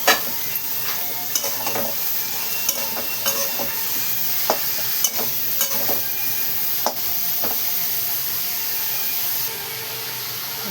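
Mushrooms sauté in a hot pan with a steady sizzle, punctuated by the scrape and clack of a spoon stirring every second or so. No one speaks.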